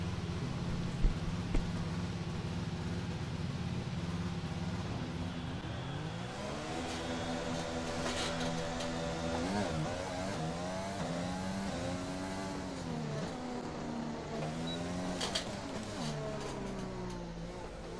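A Formula 1 car engine in the F1 2020 racing game during qualifying in Hungary hums steadily, then climbs and drops through repeated revving shifts, loud and continuous, with someone speaking over it.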